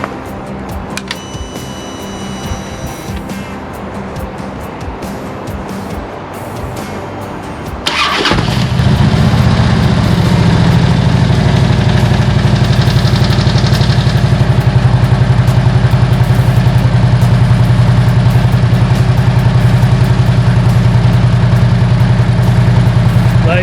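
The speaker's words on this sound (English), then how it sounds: "Start my bike up, let it run for a moment." Quiet background noise, then a Harley-Davidson touring motorcycle engine cranks and fires up loudly, settling into a steady, rumbling idle that continues close by.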